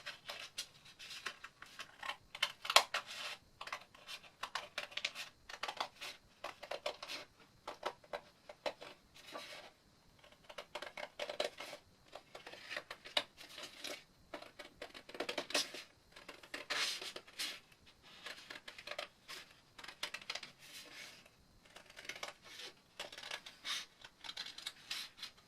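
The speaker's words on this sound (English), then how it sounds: "fold a piece of paper in half and get our scissors" Scissors cutting through a folded sheet of paper for a craft window, heard as quiet, irregular snips and crisp paper rustles in short bursts with small gaps between them, close up and fairly soft.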